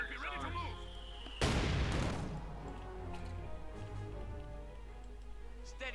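A .50 caliber machine gun fires in a burst in the real-time strategy game Company of Heroes 2, a dense, loud crackle over battlefield ambience and game effects.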